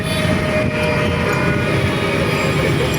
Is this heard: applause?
no